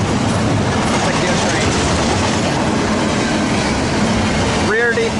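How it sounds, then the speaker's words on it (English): Eastbound Q freight train with a rear DPU passing at Daggett: a loud, continuous close rumble and clatter of wagons filling the whole stretch, with a short tonal squeal near the end. "there goes that eastbound Q train"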